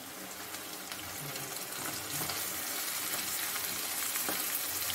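Chicken pieces go into a pan of masala where ginger, garlic and onion paste has been frying, giving a steady, close, continuous sizzle with a slight watery hiss that grows a little louder midway, with no talking.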